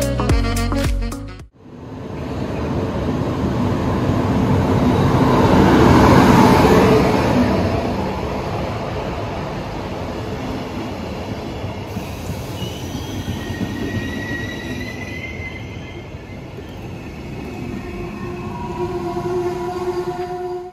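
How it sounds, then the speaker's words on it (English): A class 112 electric locomotive hauling GDR-built double-decker coaches on a Würzburg replacement service rolls into the station with a swelling rumble that peaks and fades, then wheel squeal and brake hiss as it slows, heard alone without talk. "now we can take a look at the arrival of my train in Würzburg."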